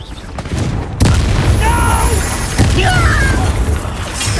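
Confringo spell explosions go off in a Hogwarts Legacy duel, loud booming hits near the one-second and two-and-a-half-second marks over a constant roar of battle noise, while a voice speaks amid the fight.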